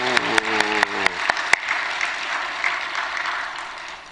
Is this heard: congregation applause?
yes